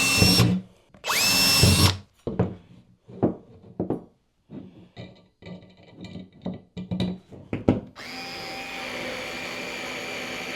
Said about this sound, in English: we're just going to drill some holes, put our anchors in